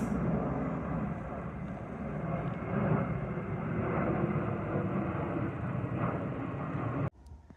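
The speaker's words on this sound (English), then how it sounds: "This hill really is a plane spotter's paradise. Look how low they come over." Low-flying airliners pass overhead near a hill above Stalybridge Country Park, a steady loud jet roar that swells and lingers for several seconds, then cuts off abruptly near the end.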